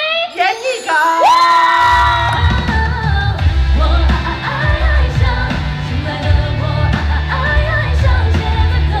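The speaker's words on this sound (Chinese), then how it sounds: "那我们就用最热烈的尖叫声来欢迎" At a campus event, an audience screams, whoops and cheers loudly and continuously to welcome a singer onto the stage, with a low thumping backing underneath the crowd noise.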